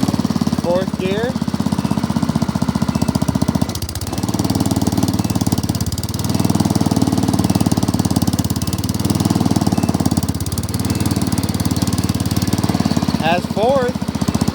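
A tractor engine runs steadily in fourth gear with a loud, rapid chugging knock, close by and continuous for the whole stretch, while someone speaks briefly over it.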